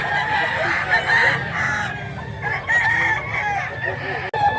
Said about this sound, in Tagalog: Quality kayo imong manok.